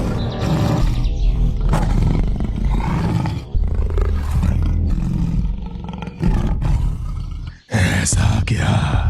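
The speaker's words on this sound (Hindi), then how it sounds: "ठीक तभी गरजते हुए गुफा के अंदर से निकल आई एक बाघ" A cartoon tiger emerges from a cave with a loud, sustained roar, deep and growling across most of the stretch, broken by brief gaps and a final snarling burst.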